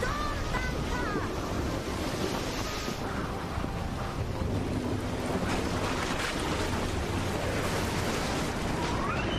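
A storm at sea roars with steady wind, surging waves and rumbling thunder that fill the whole stretch as a dense, unbroken wash of noise.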